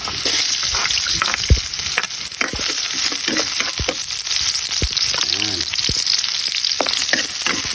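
Garlic and onion sautéing in hot oil in a pan, a loud continuous sizzle with scattered stirring clatters, no voices.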